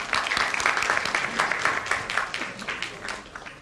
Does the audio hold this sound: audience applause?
yes